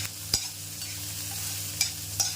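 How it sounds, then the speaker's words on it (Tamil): Onion, ginger and garlic sautéing in a pan, a soft continuous sizzle broken by three sharp scrapes of a spoon stirring against the metal, close up with no voices. "இதையும் சேர்த்து நல்லா வதக்கிடுவோம்"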